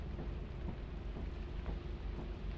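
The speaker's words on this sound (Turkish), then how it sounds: "Yağmur ya." Steady rain pours in the video game Lethal Company, a dense continuous hiss with low rumbling underneath, heard alone without voices for the whole stretch.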